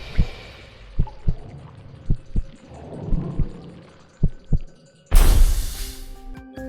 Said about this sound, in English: as you probably just heard there, was the heartbeat sound